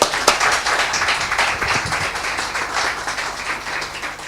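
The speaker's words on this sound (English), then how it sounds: "so please give him a big round of applause." A crowd applauds to welcome a speaker at a WordPress WP-CLI talk, with a dense, steady wash of clapping from many hands that fills the room and carries on throughout.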